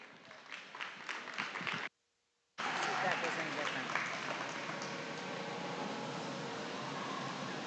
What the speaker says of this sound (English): Let's give them a round of applause if you would.